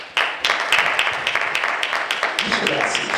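Audience clapping for a panelist at a Mass Black Expo 2023 panel, with steady applause from a modest crowd sustained across the whole stretch, no speech over it.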